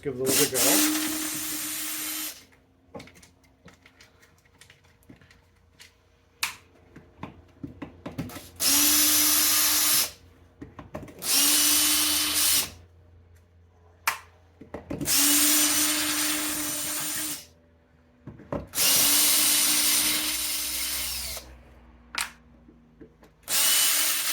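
A power driver unscrews Phillips screws from a Makita DUR181 cordless weed eater, sounding in about six loud whirring bursts of a few seconds each, separated by quieter handling clatter and scraping.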